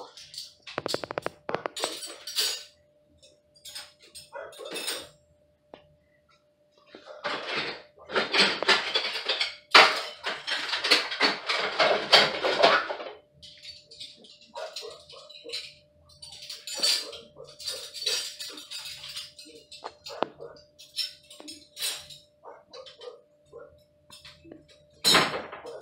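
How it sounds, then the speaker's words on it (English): Silverware is loaded by hand into a home dishwasher basket in irregular bursts of close metallic clinks and rattles, separated by short quiet gaps, with a faint steady hum underneath. "It's kind of hard to get all the silverware in my dishwasher facing one way"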